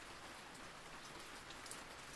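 Steady, even rain pattering down continuously, soft and fairly faint, with no voices and no distinct individual drops standing out.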